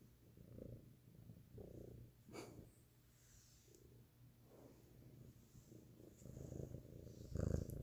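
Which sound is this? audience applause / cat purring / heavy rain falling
cat purring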